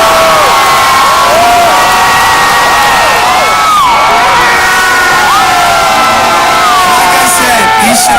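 Concert crowd at a show at Pier 17 in Manhattan, cheering, whooping and shouting loudly and continuously from close by, with scattered yells rising above the roar.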